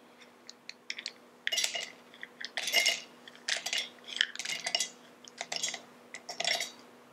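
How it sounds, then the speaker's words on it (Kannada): Roasted almonds tumble into a mixer jar in a series of hard clicking, rattling clinks, bursts of small nuts striking the container in irregular clusters, close and crisp with no talking. "ಈಗ ಹುರಿದಿರುವಂಥ ಬಾದಾಮಿಯನ್ನ ಜಾರ್ಗೆ ಹಾಕೊಳ್ಳೋಣ"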